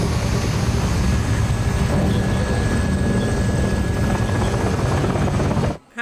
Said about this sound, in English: They in the front yard of her house. With a helicopter to pick her up.